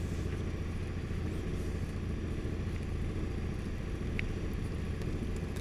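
A light aircraft's engine drones steadily and evenly while taxiing onto a grass runway, a constant rumbling hum with faint rattles and no pauses.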